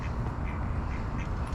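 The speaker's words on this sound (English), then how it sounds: "look at those two duckies" Two ducks quacking nearby during a bike ride, several short nasal quacks over steady wind and rolling noise, with people talking at the same time.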